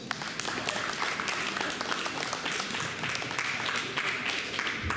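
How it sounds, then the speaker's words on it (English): An audience at a post-prom event applauds in a steady, moderately distant patter of clapping that lasts throughout. "Well, let's give another round of applause."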